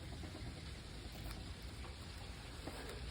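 Pool water being dumped out through a pipe makes a faint, steady rushing splash, a constant noisy wash with no pauses, heard from some distance.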